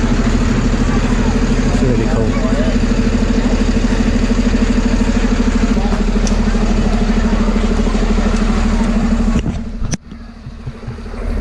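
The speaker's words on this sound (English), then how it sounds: "Oh, there's a fire engine just come back." A fire engine's large diesel engine idles steadily with a low rumbling hum, a voice speaking briefly over it, then a sharp clunk near the end as the engine cuts.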